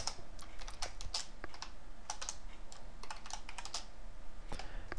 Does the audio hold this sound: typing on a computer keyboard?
yes